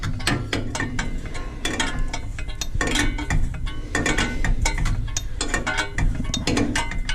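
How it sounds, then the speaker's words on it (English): Ratchet wrench clicking steadily on a British MG Midget engine, a fast run of dense metallic pawl clicks filling the clip, close and loud with short pauses between bursts. "Some low footage of me turning this wrench for 45 minutes trying to turn it"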